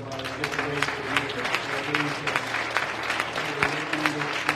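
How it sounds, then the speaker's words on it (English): A church congregation claps hands in praise during a midweek worship service, steady rhythmic clapping filling the room with a musical hum or organ tone underneath. "Why don't we give our hand clap unto the Lord while we give praise to you."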